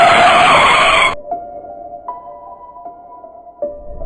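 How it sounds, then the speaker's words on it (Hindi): A car brakes hard and skids on a road in a Hindi animated horror story: a loud, harsh burst of tire screech for about a second, then fading into sustained eerie tones. "मैंने गाड़ी को बड़ी मुश्किल से संभालते हुए ब्रेक लगाई।"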